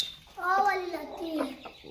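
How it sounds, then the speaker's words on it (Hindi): Hens with chicks cluck in a short burst of soft, harmonic calls in a farmyard, fairly close and clear, with rising and falling tones over about two seconds. "ये दो मुर्गियों के साथ चूज़े हैं, और मुर्गे जो है वो रहे जी।"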